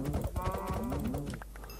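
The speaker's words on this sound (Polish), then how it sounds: "Nie uciekaj, krowo" A cow moos in a modded Minecraft-style video game, a low drawn-out bellow lasting about a second and a half, loud and close against faint game ambience.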